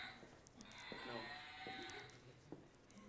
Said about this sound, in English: I heard the cow.